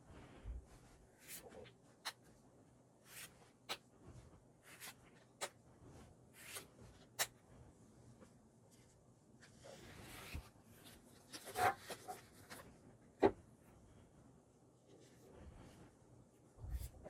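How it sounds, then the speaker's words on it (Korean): Tarot cards are drawn and shuffled in a quiet room, giving soft, scattered rubs, slides and light taps that come in irregular short bursts at low level. "추가 카드 뽑아볼게요"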